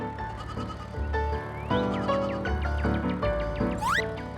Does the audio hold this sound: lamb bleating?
yes